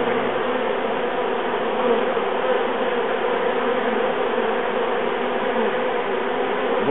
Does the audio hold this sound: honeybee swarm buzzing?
yes